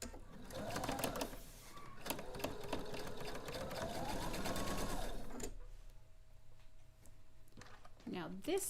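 A sewing machine stitches a seam at close range with a steady, rapid mechanical hum. It stops partway through and leaves quiet handling sounds, and a voice is heard speaking over it.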